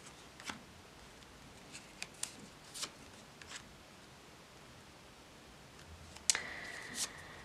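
Tarot cards are shuffled and handled in faint, scattered rustles and soft flicks against a quiet hiss, with a brief sharper riffle near the end and no talking.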